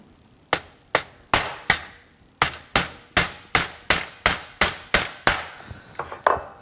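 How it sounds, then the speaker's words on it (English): A steady series of sharp, hard hammer knocks through plastic on a Saab 9-5, about a dozen evenly paced blows, loud and close with a brief pause partway through. "put some plastic below like this and start hammering again"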